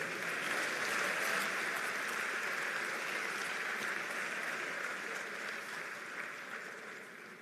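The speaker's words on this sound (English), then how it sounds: "Another round of applause, please." Applause at an investiture ceremony, a dense, sustained clapping from a large audience that fills the room and fades slightly toward the end.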